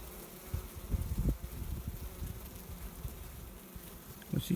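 Honey bees buzzing around, a low droning hum with occasional louder passes near the microphone, no voices.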